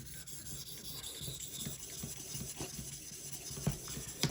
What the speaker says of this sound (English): it looks like I'm sharpening in both directions